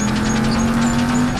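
Steady engine drone of cars in the horror video game Dark Deception, a continuous loud hum with a sustained low tone and no clear pass-bys, heard alone without talk.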